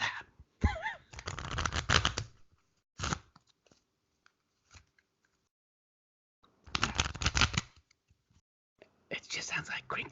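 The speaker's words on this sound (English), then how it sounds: "sounds like crinkling paper." Close, crisp crackling of paper money being handled and tucked away in a quiet room, coming in several dense bursts with short gaps of near silence between them.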